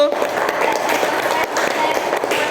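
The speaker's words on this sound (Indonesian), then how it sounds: "Beri tepuk tangan dulu untuk kelompok 1." Classroom applause for a student group, a brief burst of many hands clapping close by, steady and lively throughout, with voices mixed in.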